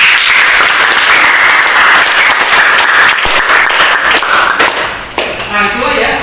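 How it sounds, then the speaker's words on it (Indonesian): Classroom applause for a student after a presentation on making a game with ChatGPT prompts, loud dense clapping close by that thins and fades near the end as talk resumes. "Boleh tepuk tangan Taufik."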